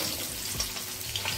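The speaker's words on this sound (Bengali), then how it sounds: "আর একইভাবে বাকি মাছটাও ভেজে নেব" Pabda fish fry in hot oil with a steady, close hiss and faint crackle, continuous and without talk.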